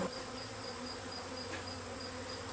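A swarm of bees buzzing steadily while being collected for transfer into a Warre hive, a dense continuous hum close by with no talking.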